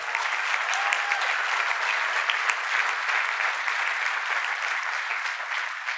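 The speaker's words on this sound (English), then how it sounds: "Let's give them a round of applause as well." A crowd claps steadily for Kansas City workers, transit staff, firefighters and police, at an infrastructure address by the president, a dense, even wash of applause holding at a constant level for the whole stretch.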